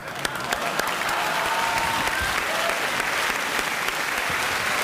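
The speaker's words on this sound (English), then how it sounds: "please welcome him with a nice round of applause, a typical Republican voter" A studio audience at a late-night talk show claps in loud, dense applause that stays steady throughout, with no voices over it.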